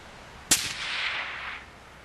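A single rifle shot cracks sharply, followed by a distant metallic ring from a struck steel plate, with strong wind noise rushing underneath.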